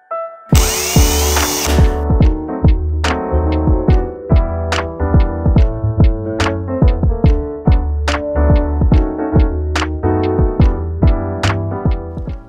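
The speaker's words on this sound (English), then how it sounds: "So I'm going to drill a hole for my little eyelet right here, right above where the ribbons all cross together." A power drill bores a hole for a small eyelet in a homemade Christmas ornament, whining loud and close after a brief high burst, then pulsing in steady rhythmic ticks with no talking.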